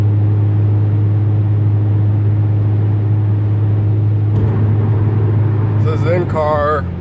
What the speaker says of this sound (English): So this is in car, windows up, muffler delete